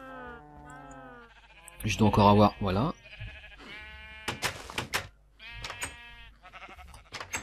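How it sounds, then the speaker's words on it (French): Sheep bleating in Minecraft, a few short wavering bleats mixed in with a man's French speech and brief clicking game sounds, moderately close. "je vais aller retondre nos petits moutons."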